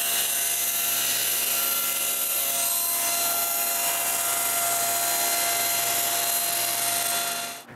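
A high-pitched power tool whines loudly and steadily, cutting the blade slot into a wooden table for a homemade wooden bandsaw, and keeps going without pause before cutting off abruptly at the end.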